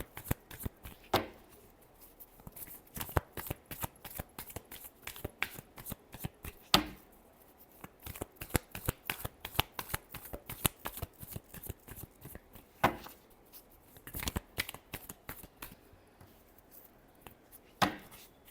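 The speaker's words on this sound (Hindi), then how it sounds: "Last shuffle." A deck of tarot cards is shuffled by hand, giving rapid, close, dry flicks and slaps in uneven bursts with brief pauses between them.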